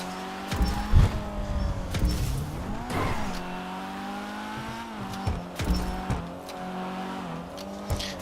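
An LS-tuned car skids and slides through a corner in short squealing bursts, with its engine revving up and down between them, heard at moderate distance with no talk.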